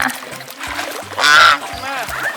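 Geese at a farm in Chiang Mai honk loudly and close by while being fed, a sustained blaring call in the middle with shorter honks around it, over a low rhythmic background.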